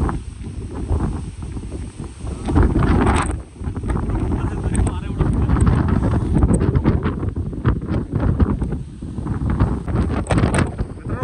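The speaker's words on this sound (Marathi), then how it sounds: "आणि वारा असा सुटला ना खतरनाक वाला." Strong, gusting wind on a mountain plateau blasts the microphone with a loud, continuous roar that swells and dips throughout.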